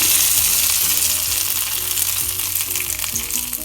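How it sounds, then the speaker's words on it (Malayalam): Mustard seeds fried in oil for tempering are poured into milk-cooked tapioca in a Kerala kitchen, giving a loud, steady sizzle with crackling throughout, no voices. "ഇനി നമുക്ക് ഈ കടുക് വറുത്തത് ഈ പാൽക്കപ്പയിലേക്ക് ചേർക്കാം"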